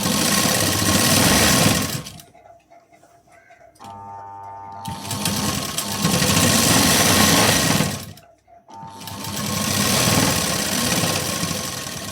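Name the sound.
sewing machine stitching a blouse seam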